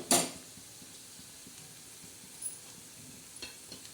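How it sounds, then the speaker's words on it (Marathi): Spinach bhaje fritters deep fry in oil with a quiet, continuous sizzling hiss. A brief clatter opens the sound, and a few faint pops and ticks follow. "आता मस्तपैकी असे आपले भजे तळत आहे"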